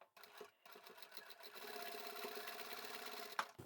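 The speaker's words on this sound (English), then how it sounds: "I'm starting the top stitch up at the shoulder seam at the top here." Sewing machine running a steady top stitch along the shoulder seam of a reversible boho sling bag, a continuous close whirring hum after a brief start, quiet overall.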